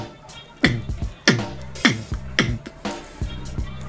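A beatboxer imitates a bongo drum pattern with rim shots by mouth, producing a steady run of sharp clicks and hollow thumps in a repeating rhythm, close and fairly loud with no talk over it.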